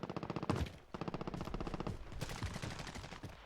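Rapid automatic gunfire in Call of Duty: Warzone, dense bursts of rattling shots that stop briefly and start again, loud and close with no talking.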